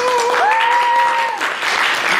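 Applause from a church congregation during a Sunday service, a steady, dense wash of clapping that holds for about two seconds, with a sustained high cheer or whistle riding over it before it thins slightly.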